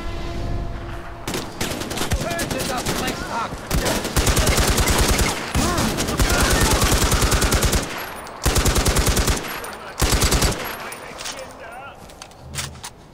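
Rapid machine gun bursts in the shooter game Far Cry 4, loud and close, coming in several dense volleys separated by short pauses, with players talking over the gunfire.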